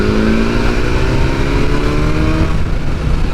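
A 2022 BMW S1000 motorcycle engine pulls hard in fifth gear, a loud, steady, rising roar heard close up with wind noise. The tone climbs smoothly for several seconds without voices.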